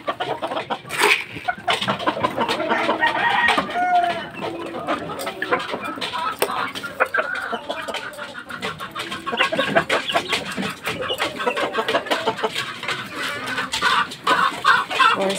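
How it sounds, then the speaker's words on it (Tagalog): Hens and roosters clucking steadily throughout, a busy close chorus of fowl calls with scattered crowing-like bursts, no talking, set among gamecocks being trained on a tether. "Babae, inahin."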